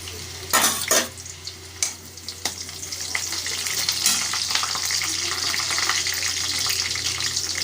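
Garlic and bay leaf dropped into hot oil, a few sharp clatters and pops followed by a loud, steady close sizzle that builds and holds.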